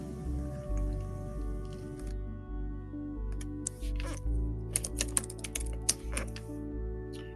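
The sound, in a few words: computer keyboard typing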